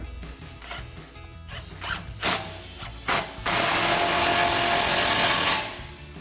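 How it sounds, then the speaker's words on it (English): A 15mm socket tightens an exhaust clamp on a Sierra 1500 Borla touring dual exhaust, starting with a few sharp ratcheting clicks and ending in a longer burst of close mechanical rasping. "slide our clamp in place and tighten it down with a 15mm socket"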